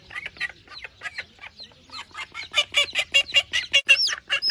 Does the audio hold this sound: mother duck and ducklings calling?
yes